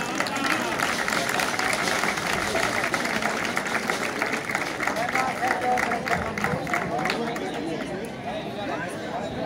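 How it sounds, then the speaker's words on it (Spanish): Applause from an audience at a band concert during a town romería festival, a dense sustained wash of many hands clapping with crowd babble mixed in, steady and fairly loud throughout. "Un fuerte aplauso, por favor."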